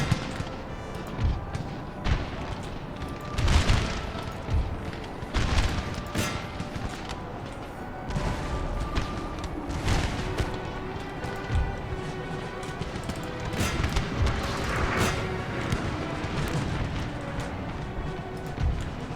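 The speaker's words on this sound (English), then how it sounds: "My cannon coming in and hitting that heavy cavalry reserve just in time." Cannon fire slams into heavy cavalry during a Napoleon: Total War battle, with scattered booms and thuds rising out of a dense, roaring wash of massed combat noise, hooves and distant musketry.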